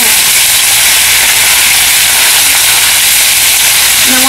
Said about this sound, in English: you can tell by the sound of that sizzle that the pan's already cooling down